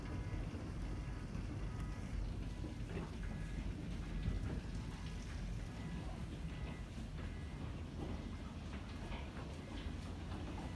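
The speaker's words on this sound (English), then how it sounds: "Hear that, guys? It's storming. I think we're getting hail." Heavy rain pours down during a severe thunderstorm in Amarillo, a steady dense hiss of rain and rattling impacts consistent with hail, with low rumbling beneath, continuous and fairly faint.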